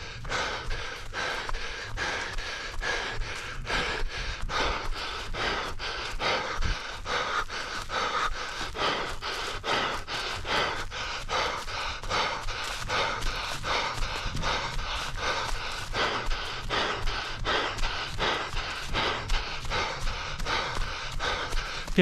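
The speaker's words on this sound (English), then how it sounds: "that's pretty full breathing" Heavy rhythmic breathing of a person hiking on a trail, close and steady, with regular inhales and exhales repeating throughout and no talk.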